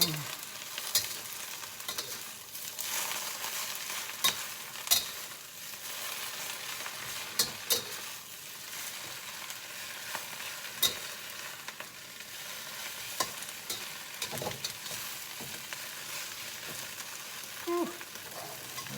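Garlic powder stirred into food sizzling in a pan, with a steady broadband fry hiss running throughout and scattered sharp clicks and scrapes from the stirring spoon, close and moderately loud, no talking.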